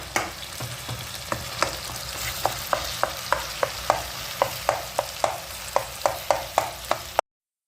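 Tomatoes soften in a hot pan for a palak paneer dish, a steady close sizzle under regular scraping clicks of a spoon stirring, about two strokes a second, with no talk.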